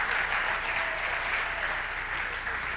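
A sports awards crowd of student athletes and others applauds the parents in a dense, even wash of clapping heard from slightly back in the room, with no talk.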